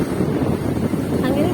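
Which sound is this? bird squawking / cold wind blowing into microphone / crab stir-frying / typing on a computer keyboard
cold wind blowing into microphone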